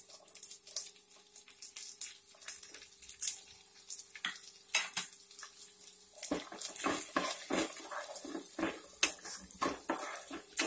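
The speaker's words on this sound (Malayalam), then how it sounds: "ഇതിനകത്തേക്ക് ചെറുതായിട്ട് അരിഞ്ഞ സവാള ഇടാം." Finely chopped onion goes into garlic frying in a pan for fried rice. A faint sizzle starts quietly, then irregular scrapes and clatters of stirring follow, and the frying grows busier and louder in the second half.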